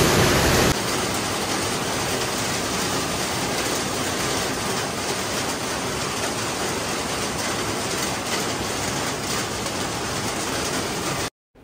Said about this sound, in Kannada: ಮಳೆ ಜೋರಾಗಿ ಬರ್ತಿದೆ.